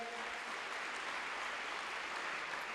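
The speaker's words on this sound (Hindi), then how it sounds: "प्लीज इनके लिए जोरदार तालियां हो जाए" Even, continuous clapping from an audience at a youth festival, a quiet but dense and unbroken patter of many hands for a speaker, with no talking heard over it.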